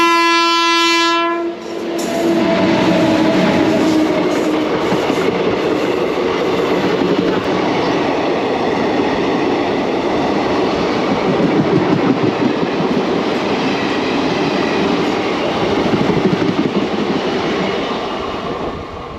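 A train passes close through a railway station, opening with a long loud horn blast and then a sustained heavy rumble and clickety-clack of wagons rolling by.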